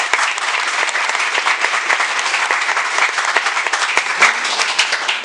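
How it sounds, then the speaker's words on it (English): Loud, sustained applause from a large crowd at a 12th-grade high school graduation ceremony, dense clapping filling the hall without a break for several seconds. "they really deserve a round of applause"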